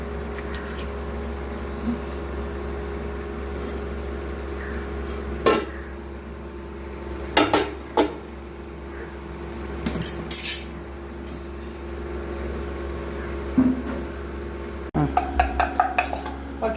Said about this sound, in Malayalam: നമ്മളിപ്പോൾ പാത്രം വെച്ചു.